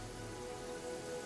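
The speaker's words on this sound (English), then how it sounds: "Yeah, it's raining." Steady rainfall in the video game Pathfinder: Kingmaker, a faint, even hiss of drops pattering on a surface with a low hum beneath, no talking.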